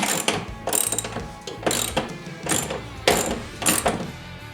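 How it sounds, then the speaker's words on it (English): Ratchet removing a bolt on a 2020 Ski-Doo XRS 900 Ace Turbo snowmobile, about seven sharp clicking bursts in a steady back-and-forth rhythm, close and clear with no talk. "just go ahead and take that bolt off"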